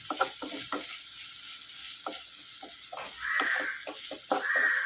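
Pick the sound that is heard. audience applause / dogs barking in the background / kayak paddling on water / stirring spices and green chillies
stirring spices and green chillies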